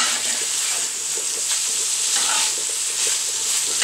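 Food sizzles and fries steadily in a pan for a sauerkraut casserole, with a constant hissing crackle and occasional soft stirring scrapes, close and fairly loud with no talking.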